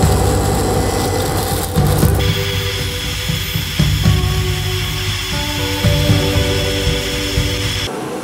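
Continuous power sawing through a wooden template, loud and close, with steady grinding and rasping and slight shifts in pitch as the cut progresses, ending abruptly.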